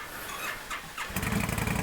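A motorcycle engine starting in cold weather, first turning over and catching at about one second, then settling into a loud, steady close-range idle.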